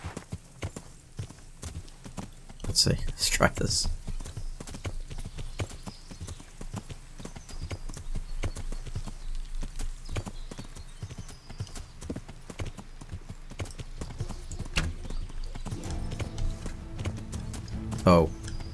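Horse hooves clip-clop steadily in Kingdom Come: Deliverance, a medieval role-playing game, with brief louder bursts of movement and a musical swell near the end, under occasional talk.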